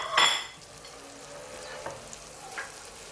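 Sliced mushrooms and vegetables hitting a hot pot with a loud initial sizzle, then a quieter steady fry with occasional stirring clinks.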